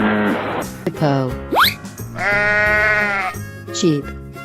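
A sheep bleats in a playful animal transformation game, with several wavering bleats up close over a steady backdrop of music and effects.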